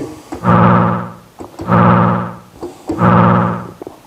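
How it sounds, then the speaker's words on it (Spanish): An additive synthesizer tone plays three sustained, swelling notes in a slow, even rhythm, each fading before the next. "es un sintetizador aditivo"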